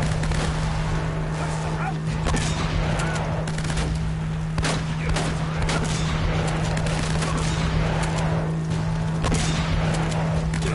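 Shotgun blasts in Uncharted, rapid loud reports crackling amid a dense, continuous firefight racket, with a steady electrical hum underneath.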